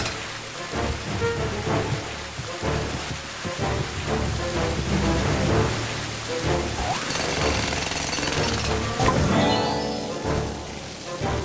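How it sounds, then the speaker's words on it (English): A jackhammer pounds steadily in the video game Club Penguin Island, its rapid hammering loud and close over a busy game soundscape that continues throughout. "A jackhammer will fix anything!"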